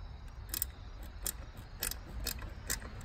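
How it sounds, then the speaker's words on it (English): A half-inch box wrench loosens a bolt on an ARB dual compressor bracket install in a tight spot, giving a run of sharp, close ratcheting clicks spaced irregularly and quite faint. "I'm using a box wrench, half inch. It's a little tight spot, but like I said, we're just loosening it up"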